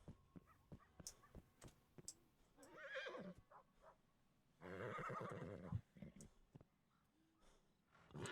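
A horse in the video game Spirit Landlord Simulator whinnies twice, each a loud, wavering neigh lasting about a second, among quieter clicks and light hoof-like taps.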